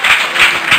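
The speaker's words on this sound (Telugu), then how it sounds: "చప్పట్లు కొట్టి" A church congregation claps hands together in three loud, evenly spaced bursts of applause that swell and fade, with no talking over it.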